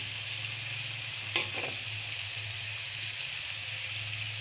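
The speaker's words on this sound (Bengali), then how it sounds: "আলুটা দিয়েও সুন্দর করে কষিয়ে নেব।" Fried potatoes sauté in a pan with pumpkin, spices and a splash of water for a spotted-crab pumpkin curry, giving a soft, steady sizzle with a brief stirring scrape partway through.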